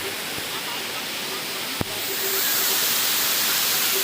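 A steady rushing roar of a mountain waterfall in the Javadhu Hills fills the clip, broadband and constant, swelling slightly louder after a single sharp click.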